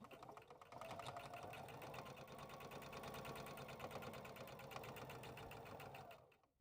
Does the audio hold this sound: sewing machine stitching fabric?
yes